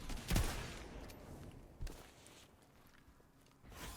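Video game battle gunfire in a solo trials match: two sharp shots and a later burst cut through quiet background, fairly close, with no talking.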